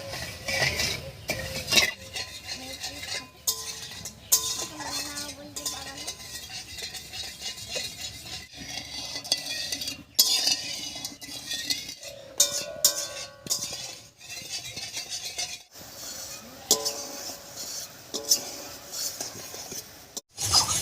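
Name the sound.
sugar melting into syrup in water, stirred in a pan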